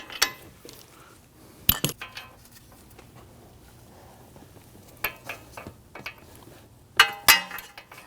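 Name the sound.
bolt being run in on Ford Taurus CV axle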